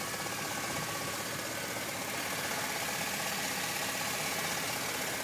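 A 2005 Chevrolet Silverado 2500 HD with a Vortec engine idling, a steady, close, even rumble with a faint rhythmic ticking and no talk.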